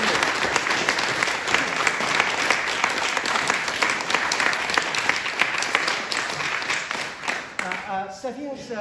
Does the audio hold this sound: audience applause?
yes